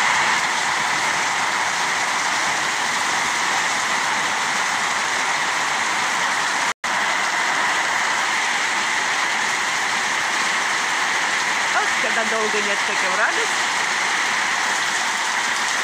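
Steady, dense rain hissing loudly throughout, with a brief faint voice near the end.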